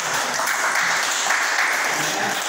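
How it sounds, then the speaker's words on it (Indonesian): Applause from an audience at a church gathering, a dense, even wash of clapping held at steady loudness without breaks. "Tepuk tangan saudara untuk FGB MFI."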